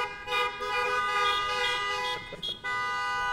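Car horns honk at a drive-in Shabbat service, several tones sounding together in a sustained chorus with a few brief breaks and overlapping toots.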